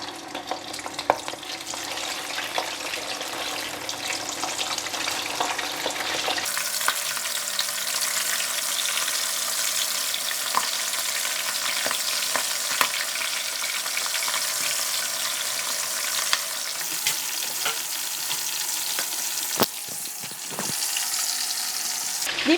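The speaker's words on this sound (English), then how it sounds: "Deep fry the prawns like this." Prawns deep frying in very hot preheated oil in a pan, a steady loud sizzle that surges as they drop in around six seconds and then holds as a continuous bubbling hiss with occasional crackles and scrapes.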